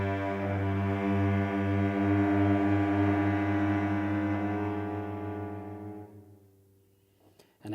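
A sustained low cello note sliding very slowly upward by one small step, held loud and steady for several seconds before fading out, followed by a faint brief rustle at the end.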